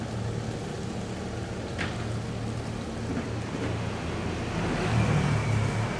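Low, steady engine drone from a boat, swelling louder toward the end as it revs, with a faint wash of water noise around it.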